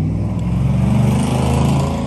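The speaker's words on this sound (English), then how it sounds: "Listen to the loud truck." A loud truck passes close by, its heavy engine drone and road rumble steady and dominant throughout.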